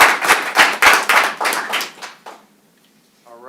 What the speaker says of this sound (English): let's give Protective Parents of Michigan another round of applause for the great work that they do